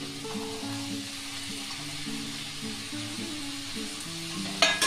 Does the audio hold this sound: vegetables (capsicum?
yes